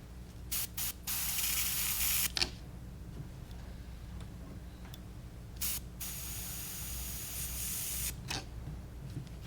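An airbrush sprays opaque black paint onto a fishing lure through a stencil, with two hissing bursts and short puffs in between over a steady low background hum, quiet and close.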